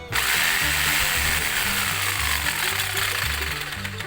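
A jigsaw fitted with a wood-cutting blade whirs loudly and steadily at its top speed setting, a dense mechanical buzz that holds constant before easing slightly at the end.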